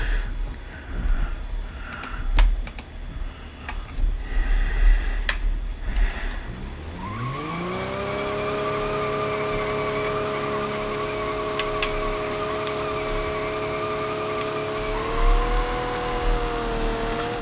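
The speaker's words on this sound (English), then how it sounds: "basic cylinder model diesel engine" A diesel sedan in the ETK S Series car game starts its engine, which settles into a steady, close idle hum after a stretch of mechanical clatter and knocks, with a brief rev near the end.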